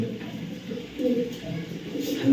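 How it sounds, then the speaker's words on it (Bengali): Racing pigeons in a loft coo softly in a low, steady murmur, with faint indistinct voices in the background. "এখানে দেখেন অনেক কবুতর আছে"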